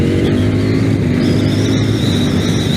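Ducati Panigale V4S motorcycle engine running loud and steady, a throaty continuous drone with a rising high whine, consistent with a quick-shifter downshift with throttle blip.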